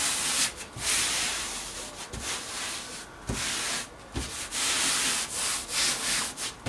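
A laid cork sheet is smoothed down by hand, giving soft rubbing and brushing strokes in an uneven rhythm with brief pauses, close and fairly quiet.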